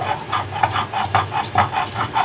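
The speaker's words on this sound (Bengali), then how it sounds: "এখন আমি শুটকিটাকে বেঠে নিব" Dried pangas fish (shutki) is ground by hand on a stone into a paste, a rhythmic rasping scrape repeating about twice per second at close range.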